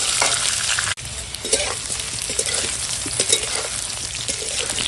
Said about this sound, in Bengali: এখন এই তেলটা এইখানটার মধ্যে 5 ফোড়ন আর তেজপাতাটা দিয়ে দিলাম। দিয়ে একসঙ্গে ভাজবো।